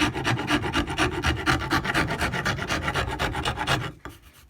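A steel file rasps across wood while a cigar box guitar is being shaped, a fast run of close, regular scraping strokes that stops abruptly near the end, with no talk over it.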